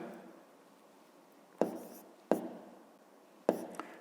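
Handwriting a school math solution on paper, with quiet scratchy pen strokes punctuated by three distinct sharp taps, likely the pen tip striking the page, in an otherwise hushed room.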